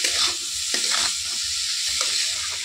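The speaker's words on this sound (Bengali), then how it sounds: "লবণটা দিয়ে আমি একটু নাড়াচাড়া করে নেবো, যাতে করে সবজিগুলো ভালোভাবে গলে যায়।" Vegetables sizzle in a frying pan as they are stirred with salt for pasta, a steady close hiss with repeated scraping strokes of the spoon through the pan.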